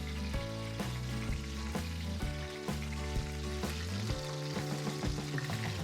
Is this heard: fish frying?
yes